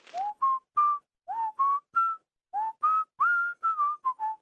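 A clear, melodic whistled tune from a character in Duke Nukem 3D, short rising and falling phrases, close and solo, with brief pauses between groups of notes.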